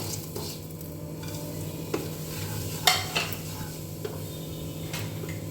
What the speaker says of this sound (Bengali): নাড়িয়ে এবার আমি ভাজা মশলাগুলো দিয়ে দিলাম।